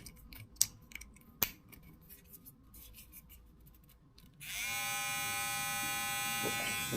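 A few faint clicks and taps come first, then a Xiaomi Uniblade electric trimmer switches on with a steady, high, close buzz.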